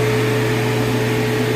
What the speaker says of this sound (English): I'm running my evacuation pump here, sucking out the freon out of it.